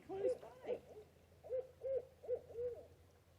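An owl hoots at night near a Florida creek, a short rhythmic series of low, hollow hoots in two clusters, fairly close and clear against quiet background hiss.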